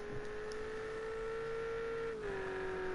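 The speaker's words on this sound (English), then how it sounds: "maxing out the Ferrari engine one more time. The beautiful V8 sound." Ferrari V8 race car in a GT3 racing game at Daytona, held at full throttle as a steady, sustained high engine tone, with a brief dip in pitch near the end as it shifts.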